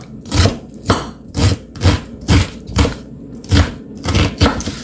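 A knife finely chopping half an onion on a board, steady evenly spaced thuds about two per second, close and clear with no talking.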